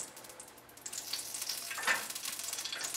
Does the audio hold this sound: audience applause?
no